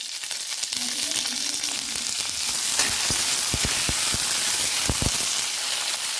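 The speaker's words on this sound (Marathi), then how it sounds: "मिरच्या चांगल्या खरपूस आपल्याला तेलामध्ये भाजून घ्यायच्या आहे।" Green chillies fry in oil in a wok with a loud, steady, broadband sizzle, broken midway by a series of sharp crackles and pops.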